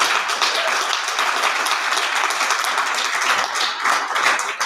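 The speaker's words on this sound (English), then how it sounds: "Let's have a round of applause for everybody who helped do that." A room full of people applauds at a panel discussion event, steady dense clapping that holds at an even level from start to finish with no talk over it.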